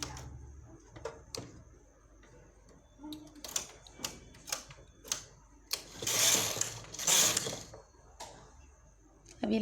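A knitting machine works on a baby cap with a series of sharp mechanical clacks and carriage sweeps, building to two longer rasping passes, fairly close and loud.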